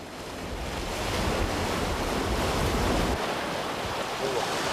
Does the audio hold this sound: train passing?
no